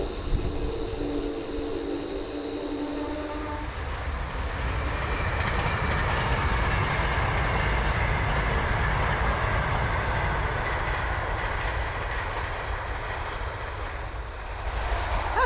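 A South Shore Line passenger train rolls past on a road beside the tracks on a bike tour near Lake Michigan, a loud steady rumble and rushing roar with faint wheel clatter, lasting throughout.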